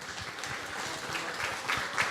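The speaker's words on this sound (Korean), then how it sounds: "박수 부탁드립니다" A meetup audience claps to welcome a company CEO onto the stage for a blockchain lecture, a fairly quiet, steady patter of many hands that holds for a couple of seconds without speech.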